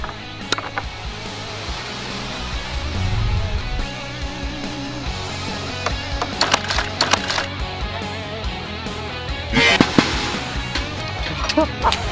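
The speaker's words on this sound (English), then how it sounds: "Then you shoot it at the grill with your giant pink PVC ballista." A giant pink PVC ballista launches a bolt with a road flare taped to it at a grill, giving a low thump followed by woody cracks and clattering impacts outdoors, fairly close over steady background noise.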